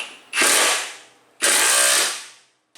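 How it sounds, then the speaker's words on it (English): A ratchet or power wrench set to automatic tension runs in two loud bursts while tightening a nut on a Lexus NX200t aluminum side step bolt, each burst fading out, close and without talk. "it's just a matter of putting the washer on and the nut tightening it up"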